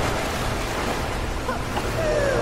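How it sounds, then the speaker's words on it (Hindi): Steady rushing water in the Rise of the Tomb Raider video game, a broad continuous roar without breaks, loud and close, with faint tonal game sounds near the end. "बहुत तेज पानी आ गया"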